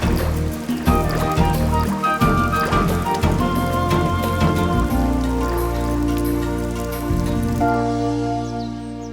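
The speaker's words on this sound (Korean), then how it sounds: "갯벌에 초가을 장마가 시작됐다." Early-autumn monsoon rain shower pouring onto a tidal mudflat, a steady close patter of drops lasting throughout, layered under sustained tonal music.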